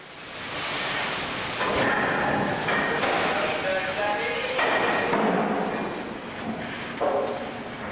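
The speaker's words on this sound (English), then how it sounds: "The train, while still discharging coal, is seen coming slowly out the other end of the plant." A slow-moving coal train rumbles out of a plant while still discharging coal onto a conveyor, with metallic clanks and squeals of wagons, a dense industrial roar that rises and falls.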